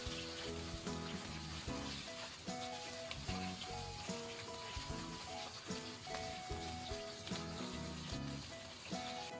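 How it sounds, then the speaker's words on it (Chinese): Chicken wing tips sizzle steadily in a pan of oil over medium-low heat beneath continuous background music, the crackle holding an even level throughout. "我们先把它煎一下，煎的过程中一直保持中小火"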